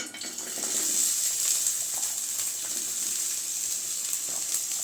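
Two medium-sized cut onions fry in hot oil for a roadside-style mushroom masala, giving a continuous, moderately loud crackling sizzle with slight swells, close by and with no talking.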